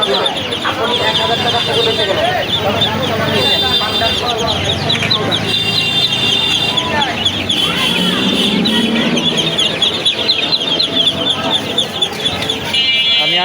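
Chicks and ducklings crowd a livestock market at Savar Goalbari haat, a dense continuous chorus of high peeping and cheeping close by, with voices of people talking and bargaining underneath.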